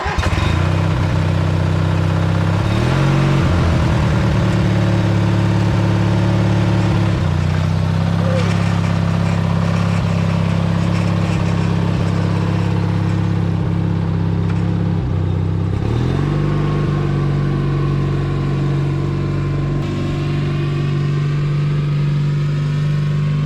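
A vehicle engine runs continuously while being driven, a steady low rumble with shifts in pitch around the middle and again toward the end, mixed with light clatter.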